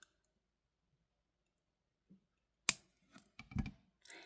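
A few quiet, close snips as beading wire is trimmed from a necklace, one sharp click followed by small soft cuts and handling noises in an otherwise silent room.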